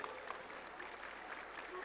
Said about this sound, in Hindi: जोरदार ताली बजाओ उनके लिए।